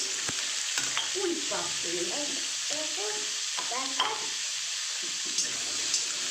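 Chunks of papaya sizzle in a pan with a gentle frying hiss, broken by intermittent scraping stirs and soft wet bubbling sounds, close and moderately quiet.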